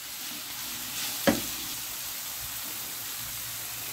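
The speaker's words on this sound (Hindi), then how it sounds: "अब इसमें चिकन भी ऐड कर देंगे ताकि वो भी साथ फ्राई होता रहे।" Chicken frying in a pan for wontons gives a steady, close sizzling hiss throughout, with one sharp utensil clack about a third of the way in.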